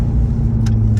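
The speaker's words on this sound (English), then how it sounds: "Boy, it's nice having a 7-speed. There's nothing that feels as good as shifting gears." A 2014 Corvette C7 Stingray with a 7-speed manual runs close by with a loud, steady, low engine drone, broken by a couple of faint, brief clicks that may come from gear shifts.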